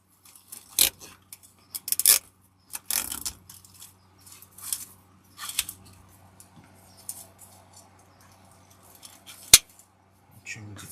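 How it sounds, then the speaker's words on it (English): Scissors trim stems while assembling a patriotic grapevine wreath, giving sparse, crisp snips and metallic clicks spaced irregularly against a quiet background, with one sharp cut standing out near the end and soft talk in between. "Trim the stems up."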